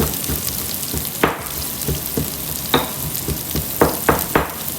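Finely chopped onions and cumin seeds frying in hot oil, a constant close sizzle broken by several sharp scraping and knocking strokes of a spoon stirring the pan.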